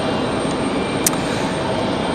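An airplane landing on runway 23 left at Raleigh-Durham International Airport, a steady broad roar of engine and rushing air heard from a distance, with a single brief high click partway through.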